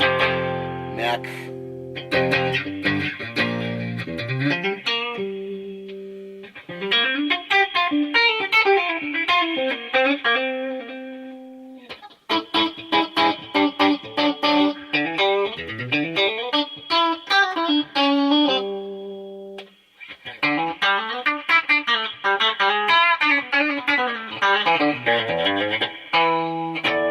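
A Line 6 Variax Standard modeling guitar on its Strat neck pickup setting plays chords and short melodic runs in a clean, slightly effected tone, several phrases separated by brief pauses.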